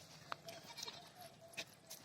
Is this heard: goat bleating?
yes